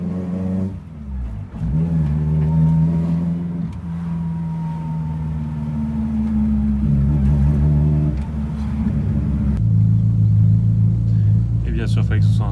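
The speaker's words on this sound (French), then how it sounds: "Si j'accélère, elle se met à crapoter." A Honda Civic EG6 with almost no power sputters and stumbles as it accelerates on a busy road. The engine drones unevenly with wavering revs while someone talks over it.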